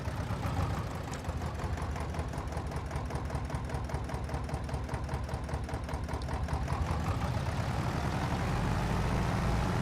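Small articulated tractor engine idling in Farming Simulator 22, a steady low, rattly drone that runs continuously and loudly throughout with no talk.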